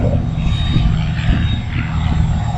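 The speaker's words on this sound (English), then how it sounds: "This is a 1943 PT-17 Boeing Stearman aircraft." A 1943 Boeing Stearman PT-17 biplane with a seven-cylinder rotary engine gives a loud, steady, throbbing drone, close and continuous throughout.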